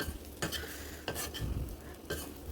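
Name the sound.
stir-frying ivy gourd (tindora) until dry and roasted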